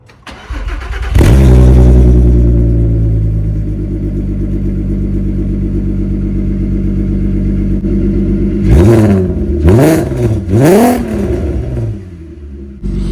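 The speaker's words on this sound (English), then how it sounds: "So I'll get a quick cold start" A car engine cold-starts, cranking and catching, settling into a loud, rumbling idle with a raspy catless-header and catback exhaust, followed by a few sharp throttle blips near the end.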